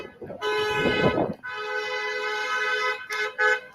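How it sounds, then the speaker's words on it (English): A car horn honks in a free speech zone: one long, loud blare, then two short toots close by, with faint street noise underneath. "No honking in the free speech zone."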